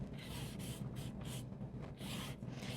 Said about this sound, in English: I can go with my spray bottle, and I'm just kind of softening everything.